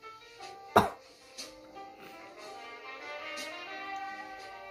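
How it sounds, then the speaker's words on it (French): A single sharp cough bursts out close by, followed by a softer throat-clearing rasp, then a faint tonal hum carries on quietly in the background. "C'est les bouts de tripes qui me font tousser en fait."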